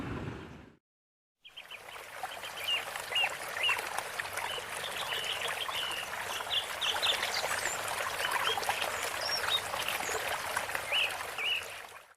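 River water flowing steadily along a riverbank where clothes are being washed, a continuous close rushing and trickling after a brief silent gap at the start.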